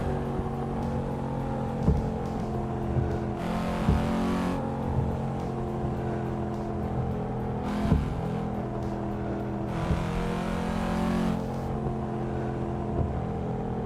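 Steady engine drone of a truck driven in Euro Truck Simulator, with a continuous low rumble and periodic brief swells in intensity, heard alone without talk.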